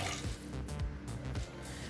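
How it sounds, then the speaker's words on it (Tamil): Water is poured into a pan of sautéed spinach for Tamil keerai rice, giving a soft, uneven splashing and gurgling with low thumps, fairly quiet and with no voices. "அடுத்தது 2 கப் தண்ணி சேர்த்துக்கலாம்."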